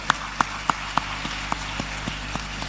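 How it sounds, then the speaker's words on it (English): Clapping at a government launch of a smart schools project in Ghana comes as about ten crisp, evenly spaced claps at a brisk rhythm, loudest at first and gradually softening. "Please, a round of applause once more."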